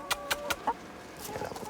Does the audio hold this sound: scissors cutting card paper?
no